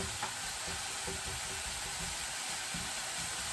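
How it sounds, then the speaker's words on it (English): Four slices of bacon frying in a pan, a steady, dense sizzle and crackle with soft scraping as the pieces are separated, no talking. "All I'm doing is separating all the bacon and making sure every piece is cooked"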